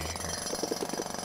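Jackhammer in Alba: A Wildlife Adventure, a short burst of continuous rapid mechanical hammering, moderately loud with a steady rattling pulse throughout.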